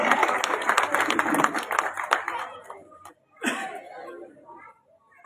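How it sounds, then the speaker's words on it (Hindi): Loud, dense clapping from an audience at a Bahadurgarh political rally greets Master Satbir as he is called up to speak, with crowd chatter mixed in; it stops abruptly, then a short burst and murmuring voices follow. "मास्टर सतबीर जी के लिए जोरदार तालियां"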